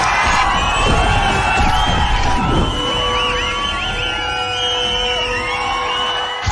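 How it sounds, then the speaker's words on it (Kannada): A packed cinema audience cheers, whoops and shouts loudly and continuously at a Karavali film screening, with children's yells rising above a dense, sustained crowd roar. "ಸಾಯೋದ್ರೊಳಗೆ ಒಮ್ಮೆ ಆದ್ರೂ ಈ ತರ ಚಪ್ಪಾಳೆ ತಡ್ಕೋಬೇಕು ಒಬ್ಬ ಕಲಾವಿದನಿಗೆ ಆಸೆ ಇತ್ತು."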